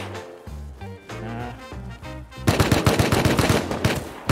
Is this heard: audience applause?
no